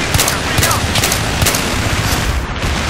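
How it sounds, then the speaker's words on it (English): Enemy gunfire in a shooter video game: sharp repeated shots crack at a steady rhythm over a continuous loud din of battle noise, with no talk. "He's shooting below us"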